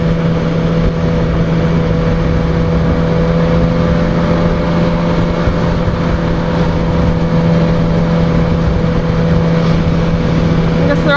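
Motorcycle engines drone steadily at night, a constant loud road and engine hum with no clear pass-bys, heard from a vehicle on the road.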